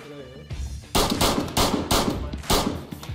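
Bursts of gunfire in the survival video game DayZ, several loud rapid shots in clusters after a brief voice at the start, close and punchy.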